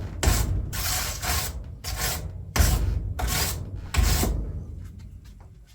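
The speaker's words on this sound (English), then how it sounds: "using a wire brush to clean it up there so I can get the aluminum tape to stick to the elbow here" A wire brush scrubs rust off a metal flue elbow for an electric wood furnace in rhythmic back-and-forth bursts, about seven harsh rasping strokes in quick groups, close and fairly loud with short pauses between them.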